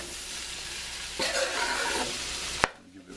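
U10 shrimp and mushrooms stirred in a hot pan, a steady close sizzle and frying hiss that swells as the spoon scrapes through, ending with a sharp clack against the pan before quieting.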